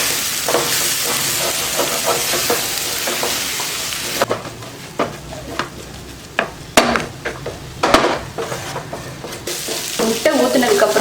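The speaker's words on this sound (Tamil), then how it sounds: "முட்டை ஊற்றுனதுக்கப்புறம் விடாமல் நல்லா கிண்டிக்கிட்டே இருக்கணும்." Egg and mixed vegetables sizzle in a pan for vegetable egg podimas while a spatula stirs steadily, with repeated scraping and tapping strikes against the pan over a continuous frying hiss, loud and close, with no talking.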